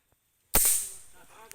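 A single sharp gunshot cracks out close and loud during a squirrel hunt among coconut palms, decaying quickly after a brief silence, with a faint click at the end.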